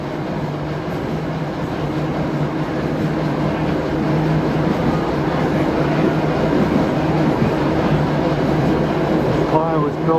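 Interior of a moving vintage Brill-built rail car, with a continuous loud rumble and rattling wheel noise holding steady throughout.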